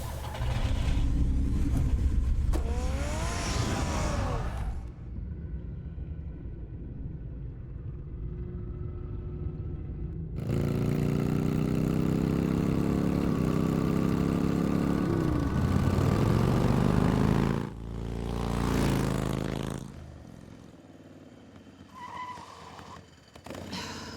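Batmobile engine in Batman: The Telltale Series, a loud rumbling roar that surges and drops in bursts, with whooshing passes and gaps of quieter low hum between them.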